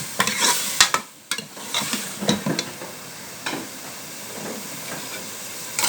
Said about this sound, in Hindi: ये हमने चनों की दाल डाल दी इसमें, और इसको अच्छे तरीके से भून लेंगे।